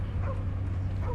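A cartoon dog gives two short whimpering yips, about a second apart, over a steady low hum from playback.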